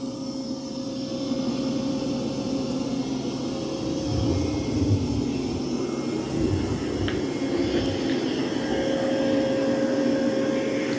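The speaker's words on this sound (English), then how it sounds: "it's doing a great job of vacuuming" Dreame Matrix 10 Ultra robot vacuum cleaning carpet, a steady, loud, close motor whir with a constant tonal hum running unbroken throughout.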